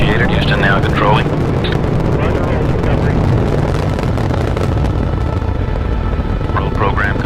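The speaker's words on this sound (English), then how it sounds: "Liftoff of Discovery and the first flight to retrieve and return satellites from space, and the shuttle has cleared the tower." Space Shuttle Discovery lifts off with a broad, loud rocket roar rumbling continuously, while a voice talks over the thunderous exhaust.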